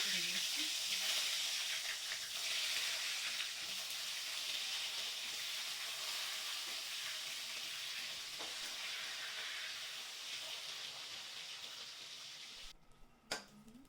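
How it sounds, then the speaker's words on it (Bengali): Eggplant pieces frying in oil left over from frying fish, a continuous hissing sizzle that eases off slightly near the end, with one brief bump at the close. "মাছ ভাজার তেলেই আমি বেগুনগুলো সব ভেজে নেব"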